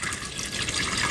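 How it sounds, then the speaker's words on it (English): Water poured from a jug into a coffee percolator to fill it, a steady close splashing trickle that runs evenly for about a second with no voices. "we've got a jug of water, so we're going to fill it up to the appropriate level"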